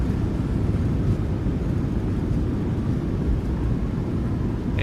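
Thrust reversers roar on a simulated Boeing 737 landing in MSFS2020, heard as a loud, steady, broadband rumble holding for several seconds with no talking.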